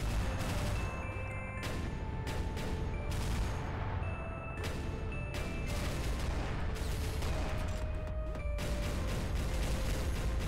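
Relentless heavy gunfire in the run-and-gun boss-fight game Mini Island Autumn, a dense, loud, continuous wall of rapid shots and blasts with layered chiming pickup and hit tones throughout, no pauses.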